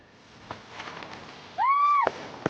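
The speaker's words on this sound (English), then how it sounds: "Bonfire night, and we've all come together for some fireworks." On bonfire night, a single firework whistles as it climbs and ends in a sharp crack, followed by a fainter pop, over a quiet outdoor background.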